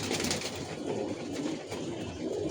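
Several pigeons in a rooftop loft coo continuously at close range, their low, burbling calls overlapping in a dense, even murmur.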